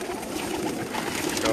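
Pigeons of fine, rare breeds kept in a rooftop loft coo and flutter in a dense, steady chorus that stays fairly close and continuous throughout.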